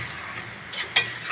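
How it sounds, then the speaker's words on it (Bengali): Taro greens (kochu shak) cook in a pan with a soft, steady sizzle, broken by a single brief scrape of a spatula being stirred through near the end. "তো এটা আমি নেড়ে চেড়ে নেব।"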